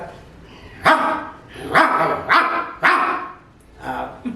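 A village dog barks in a series of five or six sharp, loud barks with short pauses between them, close by, over a low background.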